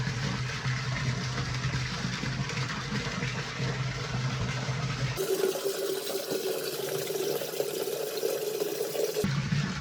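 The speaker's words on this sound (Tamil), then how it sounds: "ஸோ தண்ணி ஃபுல்லாக நான் ட்ரைன் பண்ணி விட்டேன்." Water drains from a tank fitted with a semi-automatic water level controller and overflow protection, a steady loud rush that abruptly changes to a brighter, hissier flow partway through, then shifts back near the end.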